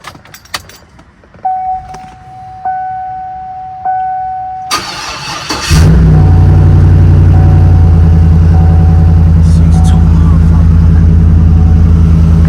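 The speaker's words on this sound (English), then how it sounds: "I'm about to get y'all a cold start." A newly bought, lifted pickup truck is cold started up close: warning chimes and a key click come first, then the starter cranks and the engine catches into a loud, steady idle that continues to the end.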